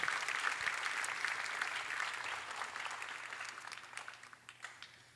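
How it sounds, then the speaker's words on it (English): Applause from a class night audience in Hawaii honoring a retiring teacher of seniors, steady dense clapping that gradually thins and fades toward the end. "Please give a big round of applause for Mrs. Lee Marie DuPont and for her love f"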